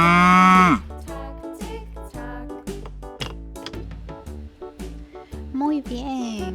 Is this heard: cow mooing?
yes